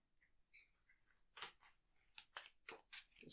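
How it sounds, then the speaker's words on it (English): Cards being shuffled into an encounter deck at an Arkham Horror card game table: a run of close, crisp riffling snaps and flicks, quiet but distinct, with no talking. "Shuffle both copies of Ghostly Presence into the encounter deck and Brown Jenkins and place him at Nahab's c"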